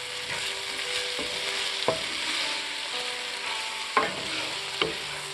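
Garlic is stirred into turkey sizzling in a pan. A soft, steady sizzle runs under a few sharp utensil clicks and scrapes against the pan, and no one speaks.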